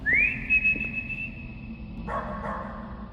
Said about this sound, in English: And we try whistling for your dog.